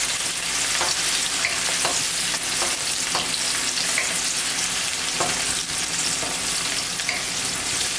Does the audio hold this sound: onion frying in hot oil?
yes